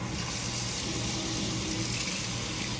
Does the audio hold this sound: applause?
no